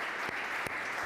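Congregation applauding God during a Spanish-language church sermon, a steady wash of clapping with no single claps standing out, heard for about a second.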